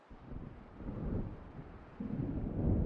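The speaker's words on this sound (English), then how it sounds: "It seems there's a storm coming." A low rumble of thunder from an approaching storm over the water in the video game Alan Wake, building in two swells across a few seconds with wind-like noise underneath.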